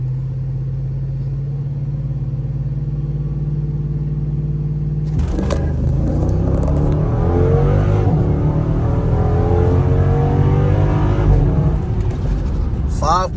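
A 2012 Jeep Grand Cherokee SRT8 in sport mode idles steadily at first, then launches hard and roars through a 0–60 mph run. The engine rises loud and close through the gears, and a voice speaks during the pull.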